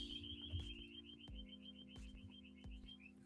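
Outdoors, a lyrebird imitates a car alarm with a rapid, warbling electronic-sounding trill that repeats steadily at a moderate distance over faint low background thuds and hum.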